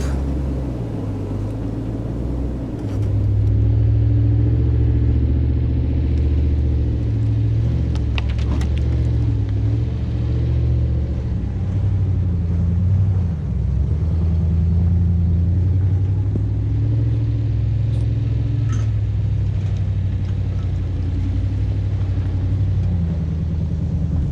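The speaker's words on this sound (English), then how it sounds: "there's the group of Jeeps that's recovering a broken Jeep" Several Jeeps driving over fresh snow while recovering a broken-down Jeep, a steady low engine rumble and drone that swells slightly early on and holds, with no talk.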